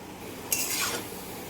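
A spoon scrapes and stirs sticky raw-mango pickle with jaggery in a metal pan, one brief rasping burst of scraping standing out over a quiet, steady background.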